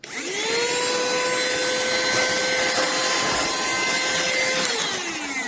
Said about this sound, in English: Let's turn it on so you guys can see the suction.